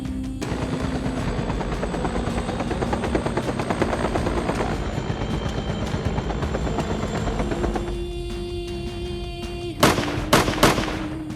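A helicopter used for hunting wild boar drones steadily with rotor chop throughout, joined near the end by a few sharp gunshots.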